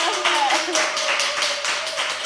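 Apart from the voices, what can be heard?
audience clapping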